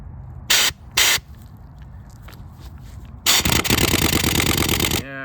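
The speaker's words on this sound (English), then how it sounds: "the nut came right off with the air compressor" Pneumatic air tool working a clutch nut off a Benelli TNT135 motorcycle: two short loud hissing bursts, then a longer sustained burst of rattling impact with hiss lasting about two seconds, close and loud.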